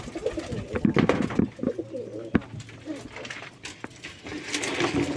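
Sky-blue Raj Gola pigeons coo in a loft in Singair, Manikganj, with repeated low throaty calls close by, some faint chirps and a brief voice in the background.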